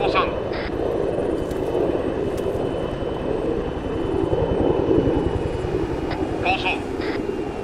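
An aircraft landing in the ArmA 3 video game, with a steady loud engine drone and rotor-like thrum throughout, while people talk over it.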